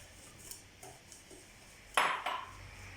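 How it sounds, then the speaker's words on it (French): A utensil works gingerbread batter of flour, salt, baking powder and eggs in a bowl, giving a few faint scrapes and light taps before two sharper clinks of metal against the bowl near the end. "je remue le tout"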